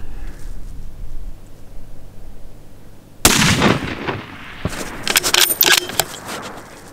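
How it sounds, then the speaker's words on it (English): A rifle shot rings out loud and close during a spring bear hunt in Montana, a sharp blast followed by a rolling echo, then handling clatter and a few knocks in open country. "Shoot again."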